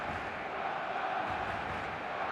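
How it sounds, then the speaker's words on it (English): Full stadium crowd at a Manchester City vs Fulham match in the eFootball video game, a constant dense roar of massed voices, even and sustained with no breaks or distinct chants. "The stadium is full of noise and energy"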